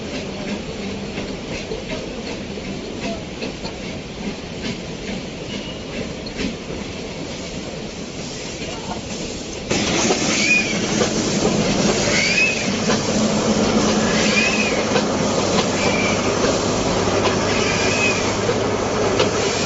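A mountain train rolls along the rails with a steady rumble and rhythmic clatter, growing louder and closer halfway through, with faint high squeals.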